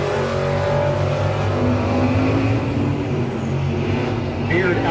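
A 1980 Plymouth Volare drag car with a 408-cubic-inch Trick Flow motor roars at a drag race, loud dense engine noise filling the whole stretch with a rough, sustained tone.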